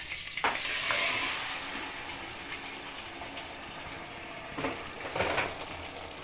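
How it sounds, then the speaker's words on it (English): Boiled vegetables for avial drop into a hot pan with curry leaves, bringing a soft sizzle and splashy stirring that swells near the start, settles, then rises again briefly near the end. "And now adding my boiled vegetables."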